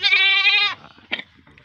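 A goat bleats once in a loud, sustained, nasal call lasting most of a second, followed by quieter farmyard shuffling; the goat is a sick one with an eye ailment kept in quarantine.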